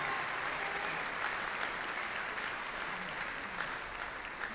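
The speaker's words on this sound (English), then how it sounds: "Give them a big round of applause" Sustained audience applause at a high school winter concert, honoring the percussion section: dense, steady clapping from a crowd that fills the whole stretch without speech.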